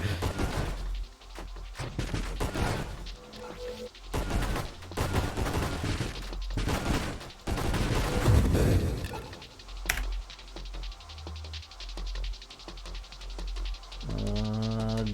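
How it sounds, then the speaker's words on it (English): Ships fire railguns in the space shooter Nova Drift, sending out rapid crackling bursts of gunfire in clusters alongside a voice talking. "That means they shoot railguns"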